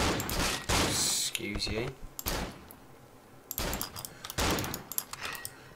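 Gunfire in the horror video game Cry of Fear, loud broadband bursts of shots in several clusters with a voice talking between and over them.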